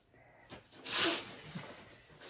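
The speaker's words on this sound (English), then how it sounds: "I feel like I have to sneeze." A single short sneeze bursts out close and fairly quiet, preceded by a quick intake of breath, with no talking.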